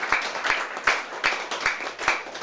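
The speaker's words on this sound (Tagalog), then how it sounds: "Sa malakas sa palakpak, sa ating Diyos ko" Congregation applause at a Filipino church service, a group clapping in unison with a steady rhythm of about two and a half claps per second, close and fairly loud with no talk over it.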